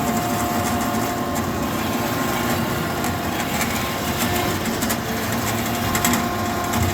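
A W.F. Wells W-10-2 fully automatic dual-column horizontal bandsaw runs continuously with a dense, even mechanical whir and hiss, close and steady with no breaks.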